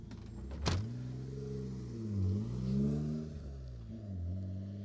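A BMW rally car on the Manx Rally asphalt stage pulls away after being rolled back onto its wheels, its engine note rising and falling through gear changes as it drives off, moderately distant with a sharp knock at the start.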